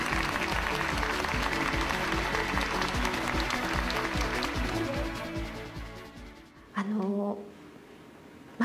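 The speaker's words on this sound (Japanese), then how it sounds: "上映を待ち焦がれていたファンの拍手が会場に響いた。" Fans at a film premiere screening in Japan applaud in a dense, sustained burst of clapping that fades after about six seconds, followed by a short voice and quiet room tone.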